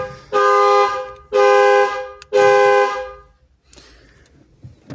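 A Chevrolet Cobalt's security alarm, set off when a door is opened mechanically with the key, blares three loud, evenly spaced horn-like blasts of about a second each, followed by quiet.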